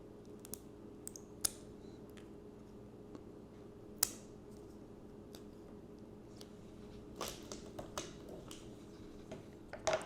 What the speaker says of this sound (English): Let me take the tape off the resin.